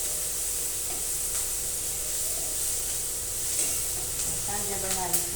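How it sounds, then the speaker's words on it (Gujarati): Onions fry in hot oil in a home kitchen, giving a steady close sizzle throughout with a few stirring scrapes and clinks near the end. "આ રીતે ડુંગળી સકડાય છે તેલમાં"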